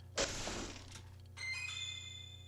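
In the video game Deadly Premonition, a steel pipe strikes a box with one sharp crack and thunk that rings out briefly. A quieter clatter follows, with a steady hum from the game underneath.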